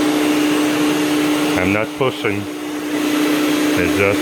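An Electra C8 vacuum cleaner's power head runs with a loud, steady whine and airy rush, close by, while someone talks briefly over it.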